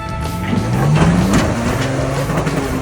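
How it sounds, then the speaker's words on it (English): A Jeep JL engine on the Rubicon Trail revs hard, climbing quickly in pitch before holding a strained, buzzing high note at the limiter. The sound is near and loud, with no talk. "I think I heard rev limiter on that one"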